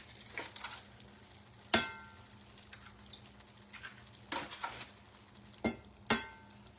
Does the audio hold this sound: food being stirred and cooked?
yes